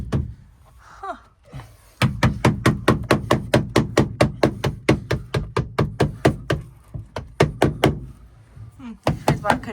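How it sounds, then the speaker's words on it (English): Rapid, steady series of loud wooden knocks as a hammer handle whacks a stubborn part during work on a back wall and roof lining, about three blows per second, with a voice briefly heard before and after. "Explains why I couldn't do it by hand when you're whacking it with a hammer handle."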